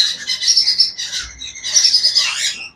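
Pet birds call up close in bright, repeated chirping bursts with a short pause in between, loud and alone with no voices.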